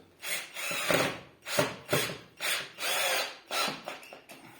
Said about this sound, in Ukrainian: Шурупи крутить добре